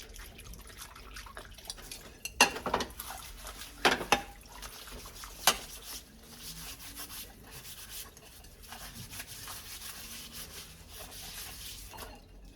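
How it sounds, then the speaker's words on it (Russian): Stacks of household dishes, including deep plates, are handled and packed into a box, with a few sharp clinks of crockery among quiet rubbing and scraping at close range. "Сейчас всю посуду, которая много не нужно, поскладывать в ящик."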